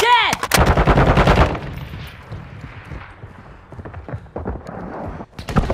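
Assault rifle gunfire in the Modern Warfare 3 video game: a dense, loud burst of rapid automatic shots for about a second and a half, followed by scattered quieter shots and battle noise.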